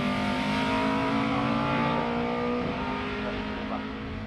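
A Rawson Space Prime special race car at a Midland Hill Climb Championship event at Loton Park, June 2019, its engine holding a steady high drone as it accelerates, heard from a distance at moderate loudness.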